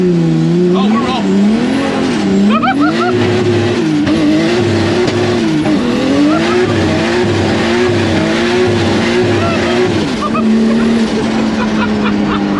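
A VW Beetle fitted with a Nissan Skyline engine roars loudly through rising and falling revs as it drives hard, with tyres squealing in places and people talking over the engine noise.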